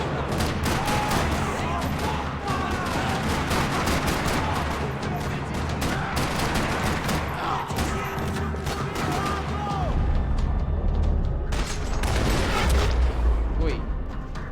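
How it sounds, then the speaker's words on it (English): Sustained bursts of automatic gunfire echo through a parking lot in the video game Max Payne 3, loud and continuous with rapid rattling shots and heavy booms throughout, and voices talking over the shooting. "Another parking lot rattling with gunfire."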